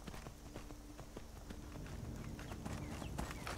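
Horse hooves clip-clop in a steady gait as a rider travels along in Skyrim, the regular thuds fairly faint under a soft ambient game backdrop, with no voices.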